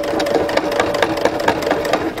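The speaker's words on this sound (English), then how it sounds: "once I've stitched over the centre back seam" Sewing machine stitching across the centre back seam of a drawstring pants waistband, a steady, close, rapid rhythm of needle strokes with no talking.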